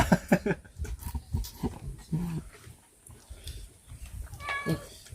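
A cat meows several times in short, close calls, mixed with soft shuffling and brief background voices.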